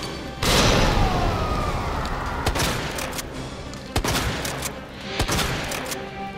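A grenade launcher fires in the zombie horror game Resident Evil 2, opening with a heavy boom and then further explosive blasts and sharp impacts over a loud, rumbling background, with no voice heard.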